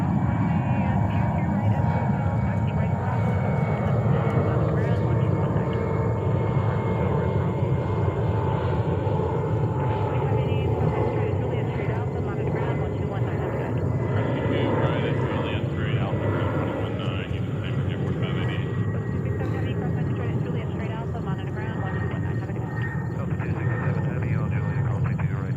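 Air India Boeing 777 taxiing toward runway 22 Right for takeoff at New York's JFK airport, a steady distant jet engine rumble and whine holding throughout under ongoing background airport noise.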